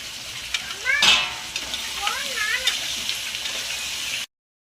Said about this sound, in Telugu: ముందుగానే నేను కోసి పెట్టుకున్న క్యారెట్ అయితే వేస్తున్నాను